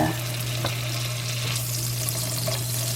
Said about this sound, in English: I'm going to put just a little bit of butter down in my pan. And